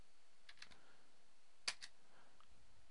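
Faint, sparse keyboard keystrokes while a command is typed at a computer: a few scattered soft clicks with one sharper tap near the middle, quiet and close, with no talking.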